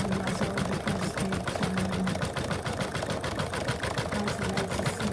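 An embroidery machine sews a satin stitch around a teddy bear's muzzle, giving a fast, even, rhythmic mechanical chatter over a low motor hum, close and continuous.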